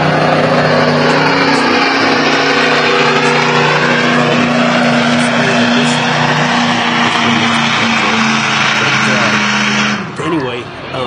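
Loud, steady engine roar from truck and tractor pulling at a year-end United Truck and Tractor Pullers event, a sustained droning note that holds without a break before dipping briefly near the end.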